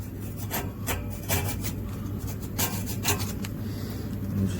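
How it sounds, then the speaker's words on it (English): A small screwdriver scraping rust off a soft metal seam, rhythmic close rasping strokes repeating roughly every half second, alone without talk. "Just get your little screwdriver in there and kind of scrape the rust off."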